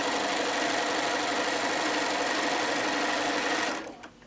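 A sewing machine runs fast and steady as it stitches through a quilt, a loud continuous mechanical whir for nearly four seconds that cuts off abruptly at the end.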